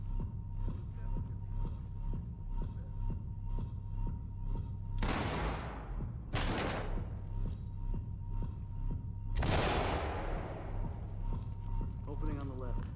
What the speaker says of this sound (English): I want you guys to breach, shotgun, clear with flashbang